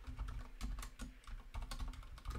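Python code being typed on a computer keyboard, with quick irregular clusters of close, soft key clicks and clacks and short pauses between bursts.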